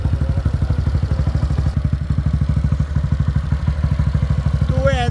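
A Honda CG 190 motorcycle engine idles at a low, slow idle with a steady, rapid low chugging pulse, close by and fairly loud, with no voices over it.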